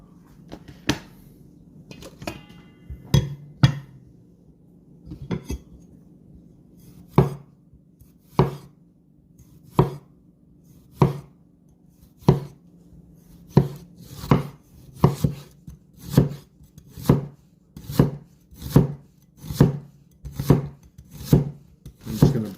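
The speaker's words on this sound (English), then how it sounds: "So let's get into chopping it all up." Vegetables and jalapeños for burgers are chopped with a knife on a cutting board, with sharp, close knocks starting irregularly and then falling into a steady, even rhythm, with no talk.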